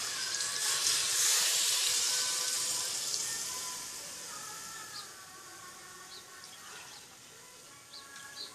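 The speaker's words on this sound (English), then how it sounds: "we'll add sufficient water to it" Water is poured into a pot of spiced mutton curry with papaya and potato, a close, hissing rush that is loudest at the start and gradually tapers off, with a few faint clinks near the end.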